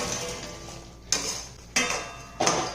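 A utensil scrapes and knocks in a pan three times at a steady pace as fried potato 65 is tossed into masala paste, with only a faint background hum between strokes.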